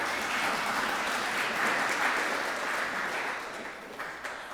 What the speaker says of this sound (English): that's the first time anybody's ever applauded the person running the sound system